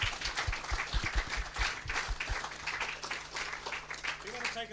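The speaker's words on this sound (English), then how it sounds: "Can we give those a big round of applause" Audience applause after an astronomy talk, a steady patter of many hands clapping at moderate distance throughout, with a low hum underneath and a voice starting to speak near the end.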